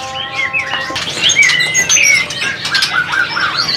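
A Bahorok spotted forest magpie-robin singing a loud, close, varied run of clear whistled notes and rapid trills, with a brief wing flutter; no talking.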